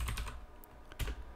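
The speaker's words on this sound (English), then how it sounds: "by just typing Python" Someone types on a computer keyboard close by, a short run of quick, light keystrokes with uneven spacing and a couple of sharper clicks, heard alone.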